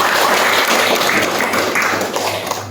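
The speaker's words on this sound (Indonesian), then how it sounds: "Tepuk tangan untuk pimpinan kita." Audience applause at a community police ceremony in Aras village, Batubara Regency, Indonesia; a dense, steady wash of clapping from a crowd, loud and continuous throughout with no talk over it.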